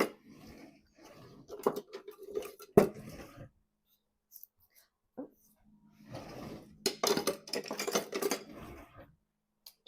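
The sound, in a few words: mixing homemade granola with a spoon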